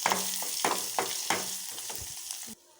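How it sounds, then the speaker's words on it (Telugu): Fresh curry leaves sizzling in hot oil for gongura pachadi, a close crackling fry broken by several regular stirring scrapes, cutting off abruptly near the end. "కరివేపాకు, ఫ్రెష్ కరివేపాకు వేస్తే ఇంకా కలర్ ఉంటుంది."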